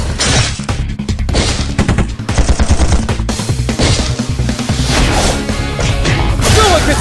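Rapid bursts of gunfire and bullet impacts from the mobile idle RPG Chaos Mecha, loud and dense, with crashing hits layered over continuous game music throughout.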